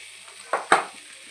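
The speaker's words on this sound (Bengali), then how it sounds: "এটাকে এবার বেশ করে কষিয়ে নিতে হবে।" Spices with turmeric and chili powder frying in a pan, a soft steady hiss with two quick stirring scrapes close by.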